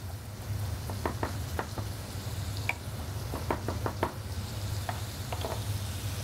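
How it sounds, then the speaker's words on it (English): Chicken livers sizzle steadily in a pan, a constant frying hiss broken by occasional sharp pops and light stirring scrapes, close and continuous with no talk. "Just let the livers get nicely browned."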